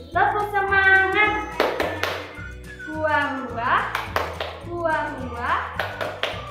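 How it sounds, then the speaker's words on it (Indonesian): A teacher leads young children in a rhythmic clapping chant during an online lesson, with sung and spoken phrases between bursts of claps. "kita akan tepuk semangat dulu. Tepuk semangat"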